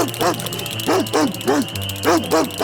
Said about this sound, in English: a big hungry dog came chasing the 2 ducks